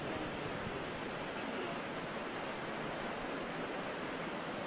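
The Krimml waterfall in Austria sends up spray as a distant, faint, steady hiss and roar of falling water that stays constant throughout.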